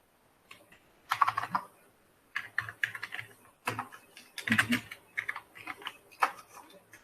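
Keys clatter on a computer keyboard as a Docker Compose command is typed at a terminal, arriving in quick uneven bursts of clicks with short pauses between them, close and moderately loud.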